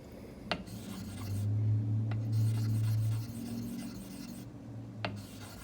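A Boker Carbon Elite 3.0 knife blade rubs on a sharpening stone under minimal pressure, working up slurry: a low steady grinding drone with a few sharp ticks, close and fairly quiet, no speech.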